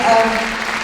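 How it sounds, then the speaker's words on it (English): An audience claps together at a world conference on women's shelters, a dense burst of applause that starts loud and holds steady through the brief moment. "A round of applause for this young woman, first of all, for telling her story."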